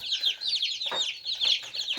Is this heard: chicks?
yes